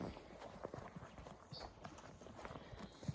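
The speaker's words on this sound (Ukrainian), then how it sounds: "Ось такі кобили." Hooves of tall mares clip-clop in a snowy yard, a quiet, uneven run of steps near and far, with a few louder knocks and faint background noise.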